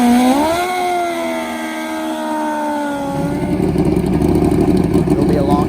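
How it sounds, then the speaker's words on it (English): A 460 drag racing motorcycle engine rising in pitch as it revs, then dropping into a loud, rough, pulsing roar, close by with a commentator talking over it. "Here comes Ricky Gatson on a 460 bike."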